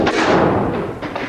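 A medieval hand cannon fires at a castle, a loud, close boom with a heavy thud that rolls off quickly into a ringing echo.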